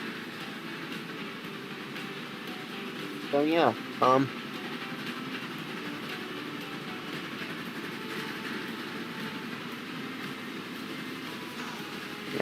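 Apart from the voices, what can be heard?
train running on rails in the video game Transport Fever 2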